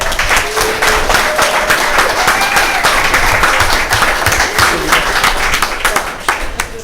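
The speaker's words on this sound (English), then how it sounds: "Can we get a round of applause?" Audience applause fills a candidates' forum hall, a steady dense clapping that holds loud for about six seconds before tapering slightly, with some voices mixed in.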